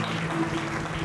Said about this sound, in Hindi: आइए उस यीशु को जोरदार ताली बजाएं।